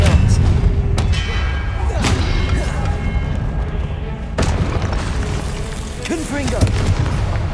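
Spell blasts from Hogwarts Legacy combat, including the Expelliarmus disarming spell: repeated booming thuds and whooshing impacts at close range, with a cast at about two seconds, a sharp hit near four and a half seconds, and further bursts over continuous battle noise.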